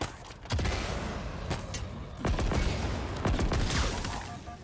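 In Halo Infinite, a Brute fires a mounted turret in loud, rapid bursts of heavy shots, close and repeated across the whole moment, with a faint bit of talk in between.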